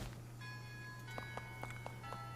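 Soft chimes ring in the video game Shadows Over Loathing, with sustained bell tones and a run of light, evenly spaced strikes. They sound faint and distant over a low background hum.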